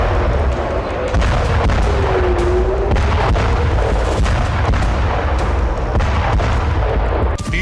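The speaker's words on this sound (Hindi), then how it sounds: "लेबनान की राजधानी बेरूत में इसी तरह से विध्वंसक बमबारी हो रही है" Bombing in Beirut, Lebanon: dense, continuous booms and sharp blasts of heavy fire crowd together, loud and chaotic, with faint voices under the din.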